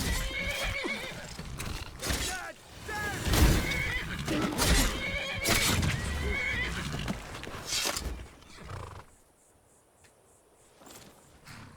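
A horse whinnies loudly several times over clip-clopping hooves in Skyrim Special Edition, then the sound drops away to a quiet, sparse background near the end.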